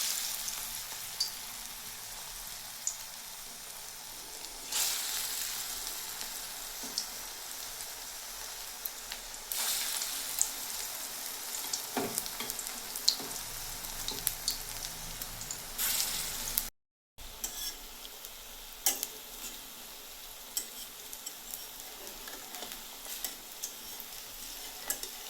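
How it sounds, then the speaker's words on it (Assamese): Red lentil fritters sizzle in hot oil with a steady, hissing crackle that swells and eases in waves over about twenty-five seconds, close and fairly loud, with no talking. "তেল গৰম হৈছে, এতিয়া বৰা দি দিম দাইলখিনি"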